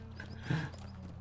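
Horse hooves clip-clop quickly and faintly as a mount trots along in the online game Lord of the Rings Online, a brief rhythmic patter over a soft game background.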